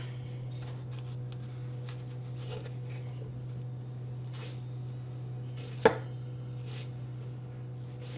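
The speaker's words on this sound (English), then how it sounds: "you could even make crosses on your tomatoes so they cook a little faster" A knife scores crosses into tomatoes for roasting, giving a few soft, scattered taps on a cutting board over a steady low hum, with one sharper knock near the end; no one speaks.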